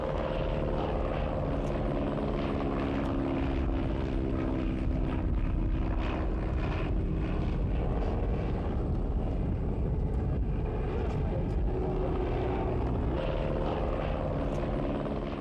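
A Fokker D7 WWI German fighter aircraft engine drones in a steady, loud, continuous roar that holds unbroken throughout with no talking.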